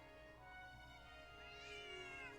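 A cat meowing faintly at a distance, one drawn-out, wavering tonal cry that rises toward the end over a quiet background hum, with no speech present.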